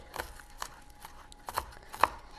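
Green onions being chopped with a knife on a cutting board, a handful of soft uneven taps spaced irregularly, quiet and close with no talking.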